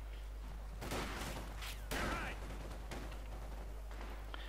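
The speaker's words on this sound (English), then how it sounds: "as long as the MG42s can actually see the target" MG42 machine gun fire in the strategy game Company of Heroes 2, with dense bursts and explosive battle noise rising and falling over a low steady hum, under a commentator's voice.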